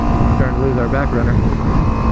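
A small Honda Grom motorcycle drones along on a canyon ride, its engine and road rumble steady and close, with a voice talking over it throughout.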